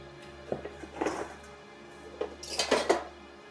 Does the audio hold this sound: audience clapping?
no